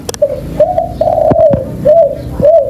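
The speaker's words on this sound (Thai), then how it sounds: "ตัวนี้เป็นนกต่อสองคุกนะครับเต็มๆเลย เป็นลูกป่าร้อยนะ เสียงกลางไปใหญ่เพาะๆนะครับ" A decoy dove (spotted dove, wild-caught) coos in short rounded double-note phrases, loud and close, with a few quick clicks and knocks between the calls.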